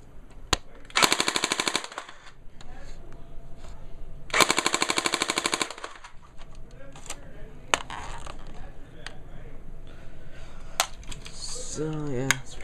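A DBoys airsoft M4 AEG rifle firing on full auto, with two loud rapid bursts of mechanical clicking shots close by, each lasting about a second, followed by single shots and someone talking.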